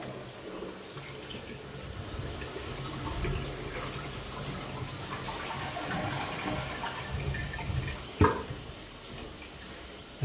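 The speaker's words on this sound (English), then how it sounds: "And as it fills, some water is going to go through here" A toilet tank refills after a flush with a Flush'n Sparkle cleaning system fitted, giving a steady hiss and trickle of running water with a few faint clicks and a brief knock near the end.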